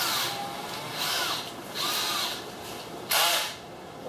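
A power drill drives screws into plywood roof spars on a modified Benroy camper, sounding as three short, close whirring bursts, with the last one the loudest.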